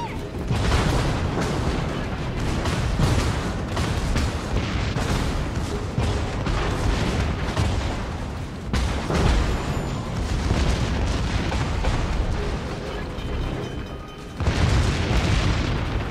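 Naval artillery shells slam into a warship in World of Warships, loud and close, with heavy booms and crashing impacts rolling one after another across a constant roar. A brief dip comes before the last blasts.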